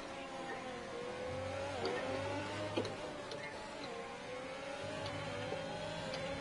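Race cars accelerate in a racing video game after a green flag restart, a steady engine drone with rising and falling whine held under the mix, with a brief low buzz of other cars at moments.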